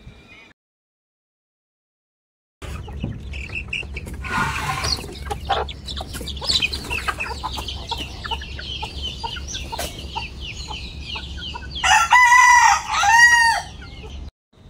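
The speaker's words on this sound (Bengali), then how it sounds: "সকালে ফার্স্টে হচ্ছে মুরগিগুলো ছেড়ে দিলাম" Chickens let out of their coop in the morning, with clucking through most of the stretch and a loud rooster crow rising near the end, close and clear after an opening pause.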